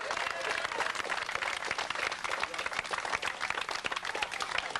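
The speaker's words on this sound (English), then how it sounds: "Give yourselves a round of applause for coming out and getting here today." Rally crowd at a July 4th gathering claps steadily and loudly, a thick continuous patter of many hands with scattered shouts running throughout the short stretch.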